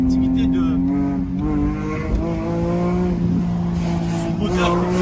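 A BMW E46 M3 shooting brake engine holds a loud, high, steady rev near 8200 rpm with a strong harmonic drone, close by and continuous.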